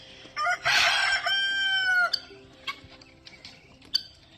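A farmyard rooster crows loudly and close, a long drawn-out call, followed by scattered softer clucks and calls from chickens being fed.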